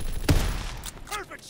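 A single sharp rifle shot from the Call of Duty WW2 video game cracks loudly near the start, followed by fading echo and a brief burst of game voice or radio chatter.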